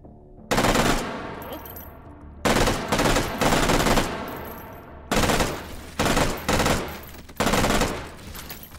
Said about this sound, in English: Master G2 just vomiting out bullets.